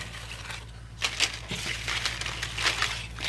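Homemade newspaper playing cards rustling and crinkling in a steady shuffle, close up over a low background hum.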